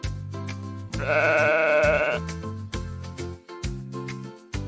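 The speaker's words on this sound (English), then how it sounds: "It's a sheep." A single loud sheep bleat rings out over a bouncy musical backing with bass and melody.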